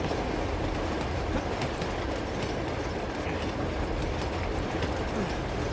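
A train in the video game Uncharted 2 rolls along its rails with a constant dense rumble and rhythmic wheel clatter, close and steady throughout.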